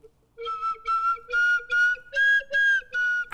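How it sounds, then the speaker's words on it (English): A whistle plays a simple tune in seven short, steady notes with brief gaps, rising slightly in pitch partway through, close and fairly loud. "watch me play Twinkle Twinkle Little Star on the slide whistle"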